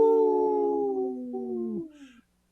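A man imitates a wolf with his voice, giving one long, sustained howl that slowly falls in pitch over about two seconds before trailing off into silence, moderately loud and set back in the background.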